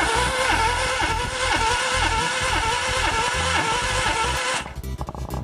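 A Renault Logan engine (2005-2014 model) cranks on the starter during a compression test, with a steady rhythmic chugging that runs for several seconds and then stops abruptly.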